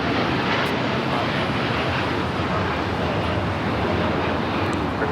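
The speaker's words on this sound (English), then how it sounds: "That was Air Tahiti Nui Flight 8 taking off to Paris" An Air Tahiti Nui airliner takes off from LAX, its jet engines a dense, steady roar that stays loud and unbroken throughout.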